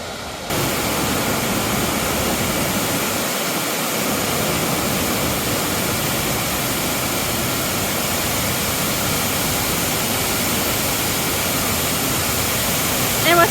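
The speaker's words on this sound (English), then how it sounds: "Look at this falls." Lower South Falls, an Oregon waterfall, pours with a dense, constant roar that fills the whole stretch, loud and unbroken from start to finish.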